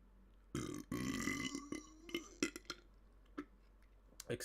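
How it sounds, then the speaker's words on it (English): A loud, close human burp rolls out for about a second, followed by a string of small clicks, smacks and mouth noises with faint talk in the background. "I got a burp."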